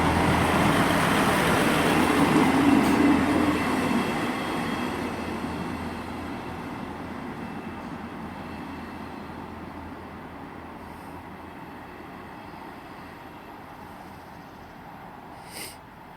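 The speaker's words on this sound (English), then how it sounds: "This is from the 158739 service from Cowden Beef to Edinburgh Waverley." ScotRail train 158739 on the Cowden Beef to Edinburgh Waverley service at Haymarket station rumbles loudly at first, then its heavy, steady roar slowly fades and thins out over about sixteen seconds.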